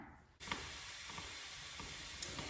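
Wallpaper steamer releases a sudden, continuous broadband hiss of steam while removing wallpaper indoors, steady and close, with occasional small taps and scrapes over it.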